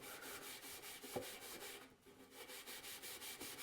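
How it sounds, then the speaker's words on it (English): Fine-grit steel wool rubs back and forth over painted dollar-store decor in quick, even strokes, a faint, close, continuous scratchy swishing with no talking. "Don't want anything more than a fine grit steel wool because you don't want to take it all the way back down to the metal"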